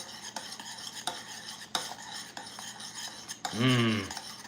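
A spoon stirs a strawberry, sugar, lemon and vanilla mixture in a pot coming to the boil, with soft repeated scraping and clinks close by, then a brief louder tonal squeal near the end.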